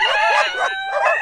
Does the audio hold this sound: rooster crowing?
yes